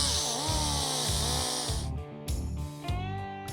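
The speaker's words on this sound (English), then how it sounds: "a cartridge roll provides a smooth finish" A high-speed die grinder spins a cartridge roll against the cast iron of a Chevy 4.3L V6 engine block, smoothing the oil passages with a steady whine that dips and surges as the roll bites into the metal.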